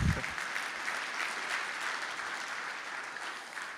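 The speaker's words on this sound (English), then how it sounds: "Some applause there, that's good to hear." Dense, steady applause from a large audience at a software product launch event for an architecture design program, a continuous wash of many hands clapping for nearly four seconds, loud and even, tapering slightly at the end.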